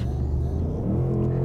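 Ford Mustang Mach-1 accelerating to overtake on the road, a deep, close engine rumble building briefly under load.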